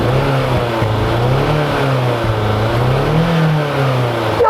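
The S14 engine of a BMW E30 M3 revs hard up close, a loud raspy four-cylinder roar that climbs and falls through several blips, with no talking over it.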